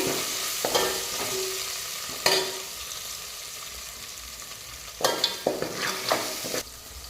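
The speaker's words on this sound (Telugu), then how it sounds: "పచ్చిమిర్చి అయితే ఫ్రై అయిపోయింది" Green chilies frying in hot oil, a steady sizzle broken by several sharp stirring scrapes near the start and a cluster of quick stirs toward the end, close and clear with no talk.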